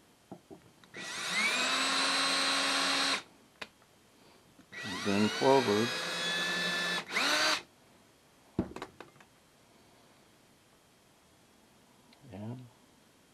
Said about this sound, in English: Turn your drill in reverse to start with.